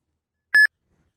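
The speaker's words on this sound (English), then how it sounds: "Your phone will start beeping, and the screen will flash." A single short electronic beep from a phone's Uber driver app signals an incoming trip request, clean and clear against silence.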